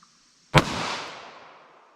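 A single sharp, loud gunshot from a snub-nose revolver firing .32 H&R Magnum lead semi-wadcutter ammunition, with a sudden crack followed by a fading echo that trails off over more than a second.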